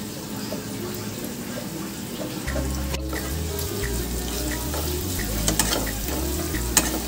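Continuous sizzling and watery hiss as a little water is added to ginger paste frying with whole spices, dried chillies and nigella seeds in a pan, close and steady with occasional clinks.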